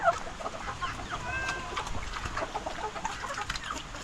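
Chickens on a rural farm cluck and call in short, irregular bursts close by, with a steady faint background of other farm sounds throughout.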